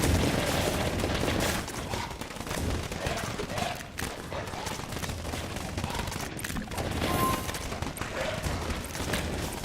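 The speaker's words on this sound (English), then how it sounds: "SMG does seem to be running out of ammo pretty quickly." A submachine gun with a high fire rate fires in a video game, dense continuous bursts of rapid gunfire mixed with game effects throughout.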